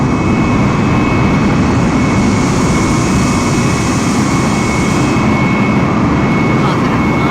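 An airliner climbs out after takeoff in Microsoft Flight Simulator, a loud, steady roar of jet engines with a constant whine holding throughout, dense and close.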